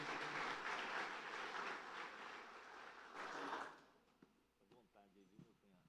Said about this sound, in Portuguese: Vamos dar um aplauso bem forte a Jesus